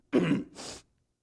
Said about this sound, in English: The doctors said the throat cough would go away in a few weeks.